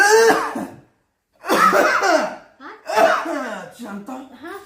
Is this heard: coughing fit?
yes